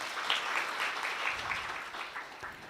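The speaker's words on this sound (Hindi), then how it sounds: "खूब खूब तालियों से स्वागत करिए।" An audience at a Brahma Kumaris spiritual class in Morbi, Gujarat claps to welcome the speaker, a soft, continuous wash of many hands heard from some distance with no talking.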